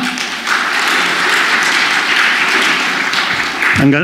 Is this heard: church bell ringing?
no